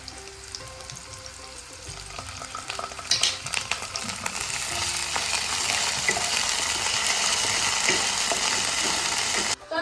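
Onion, tomato and ginger-garlic paste fry in a pan for a spiced potato dish, a steady sizzle that swells louder midway and stays strong and close, with occasional stirring scrapes and no talk.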